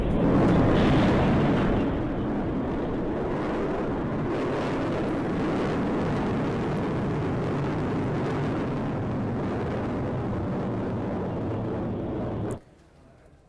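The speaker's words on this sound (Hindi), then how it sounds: "कीव में बैलिस्टिक मिसाइलों से रूस ने हमला किया है।" Explosions from a Russian ballistic missile attack on Kyiv, heard as a sustained, heavy roaring rumble that opens loud, stays steady and then cuts off abruptly near the end.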